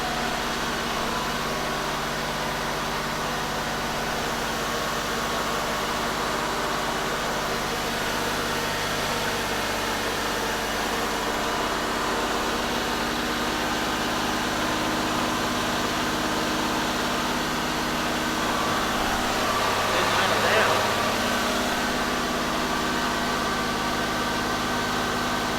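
A 1989 Buick Reatta engine idles steadily up close, giving a continuous, even hum and whir that holds for the whole stretch with only a slight swell near the end and no voices.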